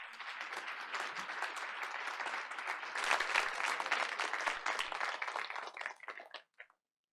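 Audience applause at a school board of education meeting, steady clapping from a room full of people for about six seconds before thinning out and stopping.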